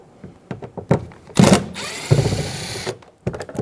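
Cordless power drill backing out Phillips head screws from a side mirror cover on a 2005-2015 Toyota Tacoma, a few short clicks then two whirring runs, close and loud.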